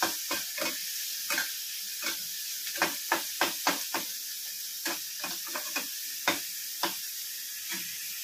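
Capsicum being sautéed for an egg samosa filling: a steady frying sizzle broken by repeated sharp clinks and scrapes of a spatula stirring in the pan, close and fairly quiet, with no voices.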